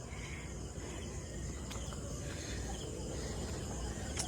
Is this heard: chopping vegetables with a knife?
no